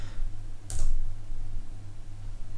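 A single computer keyboard spacebar press, one short sharp click near the start over a steady low hum, during CAD software work in an engineering design session.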